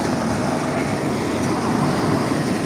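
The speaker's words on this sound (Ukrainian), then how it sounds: "Макс, перший трамвай поїхав" A tram rumbles steadily and loudly nearby, a continuous rolling roar of wheels on rails as it pulls away.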